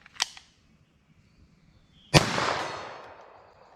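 Two .22 LR rifle shots with CCI Uppercut jacketed hollow point rounds: a faint distant crack, then a loud close report with a long outdoor echo fading away.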